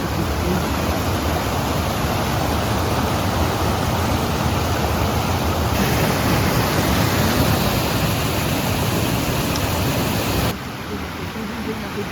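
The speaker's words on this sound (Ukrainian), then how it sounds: "То так виглядають шуми водоспади" The small Szumy waterfalls in Roztocze, Poland, pour in a steady, close, full-bodied roar of rushing water that holds constant throughout, with no talking.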